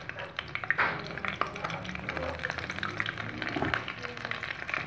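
Three chopped onions frying in oil in a kadai with curry leaves and cinnamon, a soft steady sizzle under close clinks and scrapes of a stirring spoon against the pan, with no talking.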